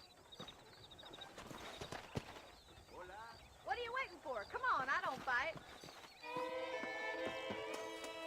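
Horse hooves clop at a steady gait in the video game Red Dead Redemption, with a voice speaking over them midway and music swelling in near the end.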